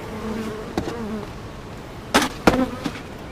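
Honeybees buzzing around a beehive, a steady drone with individual bees passing close by the microphone in sharp swells.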